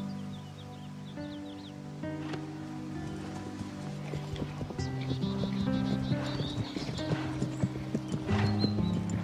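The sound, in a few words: horse hooves galloping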